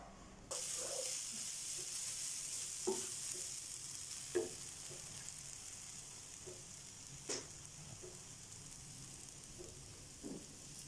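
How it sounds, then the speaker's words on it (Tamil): Grated coconut roasting dry in a pan, a steady soft sizzle and scratchy stirring throughout, with occasional sharper clicks of the spoon against the pan; no talking. "தேங்காய் பூவையும் பொண்ணுறமாக வறுக்கணும்"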